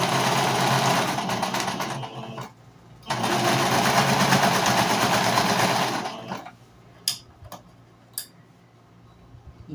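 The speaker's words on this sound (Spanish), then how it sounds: "Bueno, lo voy a coser así." A sewing machine stitches a crochet needle case in two loud steady close runs of rapid whirring, separated by a short pause, then stops, followed by a few quiet clicks.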